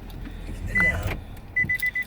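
A Nissan car, started by pressing the key fob against the push-button ignition, gives a short electronic chime followed by a quick series of four beeps, close and fairly quiet over low cabin hum.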